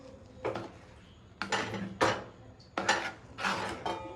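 Several separate bursts of scraping and clattering as a utensil stirs thick rice flour porridge in a metal pot with the stove switched off, each stir a short, close, fairly loud scrape with quiet gaps between.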